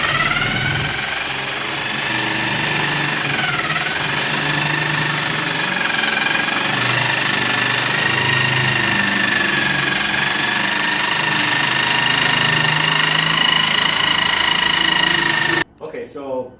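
Saw cutting through a CycleKart frame workpiece on a workbench, a loud continuous motor drone with a grinding, whining cut that wavers in pitch, running for about fifteen seconds before abruptly stopping.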